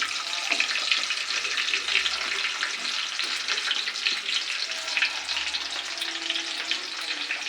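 Coated pieces of food fry in hot oil, a constant crackling sizzle with bubbling pops, close and steady throughout with no voices over it.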